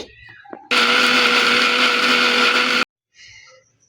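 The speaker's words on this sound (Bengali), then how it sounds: "পেঁয়াজ, আদা, রসুন আর গোলকি, এইটাকে আমরা এখন পেস্ট বানাবো।" A kitchen blender grinds green chilli, onion, ginger and garlic with a little water into a coarse paste, roaring loudly and steadily for about two seconds before stopping abruptly, with faint voices just before and after.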